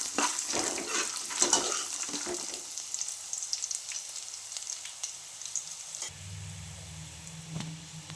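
Onion fries in oil with curry leaves in a pan for poha: a loud, crackling sizzle that gradually settles, with stirring scrapes, then calms into a softer, lower hiss for the final seconds, no talk.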